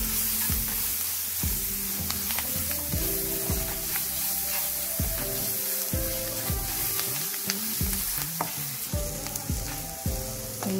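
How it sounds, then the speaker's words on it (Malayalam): Garam masala and other spice powders fry in a hot pan with a loud, continuous sizzle, while steady stirring adds repeated scraping and clunking strokes throughout, with no voices. "പൊടിയുടെ പച്ച സ്മെല്ലൊക്കെ ഒന്ന് മാറുന്ന വരെ ഇളക്കി കൊടുക്കാം."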